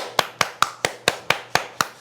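Eight crisp, evenly spaced hand claps ring out close and alone, a steady rhythm of sharp single smacks with quiet gaps between them.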